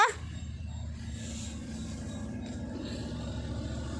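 A puppy that was stuck in a thorny bush gives faint whimpers and short yips over a steady low background drone, with no clear talking.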